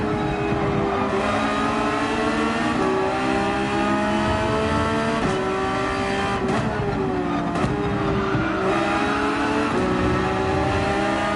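Race car engine in Gran Turismo 7 at Monza, loud and close, rising through gears with sharp shift breaks, climbing tones and brief drops, no talking.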